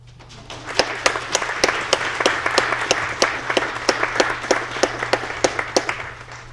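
An audience applauds after a student poetry recitation at a Poetry Out Loud 2019 event, a burst of dense, even clapping lasting several seconds with no voices over it.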